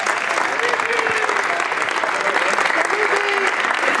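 Loud, sustained applause from a crowd at a rugby sevens tournament awards ceremony, with voices and a few whistles or shouts rising over the steady clapping.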